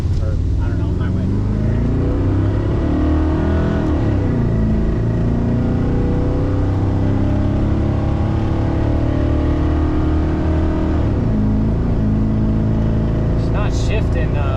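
Engine of a 1992 Chevy C1500 pickup with a throttle-body small-block V8 and a new intake manifold, droning steadily from inside the cab at highway speed, its pitch rising and falling with rough gear shifts and heavy road rumble throughout.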